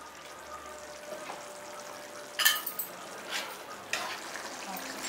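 Chole masala with yogurt cooks in oil over a low flame, giving a faint steady sizzle with a few louder stirring clinks and scrapes partway through. There is no talk over it.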